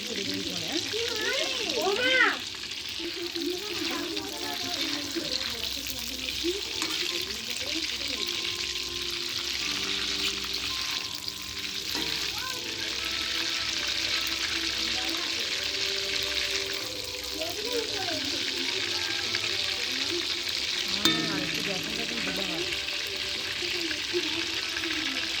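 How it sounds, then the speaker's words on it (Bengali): Chicken pieces fry in a pan with a constant close crackling sizzle, with occasional stirring knocks, while voices talk intermittently over it. "এবার চিকেনটা ভাজা হয়ে গেছে, এবার তুলতে হবে।"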